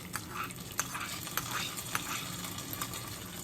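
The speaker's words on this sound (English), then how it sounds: "now add this tempering on the top of the chutney" Hot tempering with curry leaves is poured over a chutney for dosa and idli, giving a steady sizzle with small sharp crackles and pops, close and alone with no talk.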